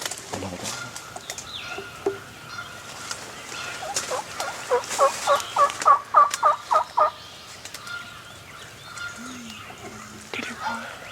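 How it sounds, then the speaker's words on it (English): A wild turkey gobbler in the woods gobbles in a rapid burst of loud, rhythmic notes, with quieter calls and rustling before and after, and voices talk at the start and end. "There's another gobbler. Another gobbler."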